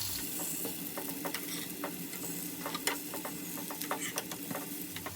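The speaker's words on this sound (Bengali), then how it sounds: "আর লো টু মিডিয়ামে আমি ধোকাগুলো ভেজে তুলে নেব।" Dhoka lentil cakes fry in mustard oil in a pan over low to medium heat, giving a steady close sizzle with scattered sharp pops and crackles throughout.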